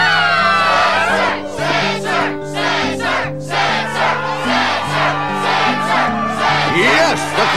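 A loud cheering crowd at the Struggle tournament in Kingdom Hearts II, sustained roars and shouts layered over bright game music.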